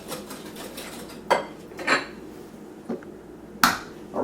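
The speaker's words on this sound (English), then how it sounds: "When you're creaming the butter, it's always good to combine the eggs, the sugar, with the butter. Stir this up a little bit." A spoon scraping and clanking against a mixing bowl while butter, sugar and eggs are stirred for cupcake batter, a few distinct close knocks amid soft scraping.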